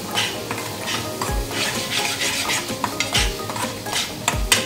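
Spice masala frying in a pan for paneer masala, a busy, close sizzle broken by repeated spoon scrapes and metallic knocks against the pan.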